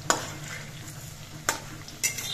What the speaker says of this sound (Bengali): গ্যাসের ফ্লেমটা কমিয়ে দিয়ে পকোড়াগুলো ভাজতে হবে